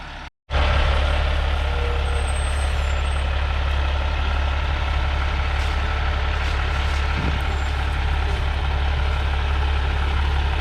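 A large truck idles and rumbles loudly and steadily nearby as it maneuvers between trees at a septic system installation site, a deep engine drone holding throughout with a brief hiss near the end.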